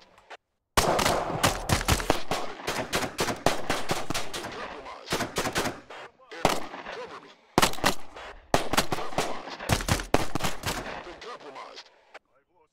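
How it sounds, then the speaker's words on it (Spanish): Video game gunfire: loud, rapid bursts of shots in clusters with brief pauses between volleys, close and sharp. "esos balazos que me han dado aquí"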